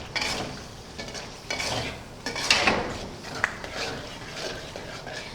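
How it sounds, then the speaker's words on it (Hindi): Chicken karahi with yogurt is stirred in a pan, producing a series of scraping, clattering spoon strokes against the metal every second or so over a soft sizzle, with no talking. "अब मैं इसमें शामिल करूँगी हाफ़ कप दही और इसको अच्छी तरीके से मिक्स कर लूँगी"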